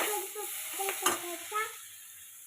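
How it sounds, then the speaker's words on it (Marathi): Curry leaves hitting hot oil, giving a short burst of crackling and sizzle with a few stirring clinks that fades to a quiet hiss by the end; faint, close, and without speech. "नंतर कढीपत्ता टाकायचा,"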